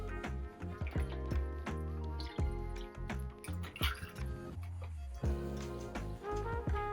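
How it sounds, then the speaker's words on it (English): Orange juice poured close up into a cocktail glass over reposado tequila for a Tequila Sunrise, a steady liquid pour with dripping, gurgling splashes running throughout against a tonal, music-like background and no talking. "we're going to fill it almost all the way to the top with some orange juice"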